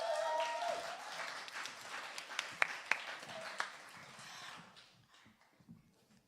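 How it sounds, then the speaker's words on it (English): An audience claps for poets at a live poetry event, a burst of scattered applause with a few sharp individual claps that fades out toward the end. "You can give them a clap, you know."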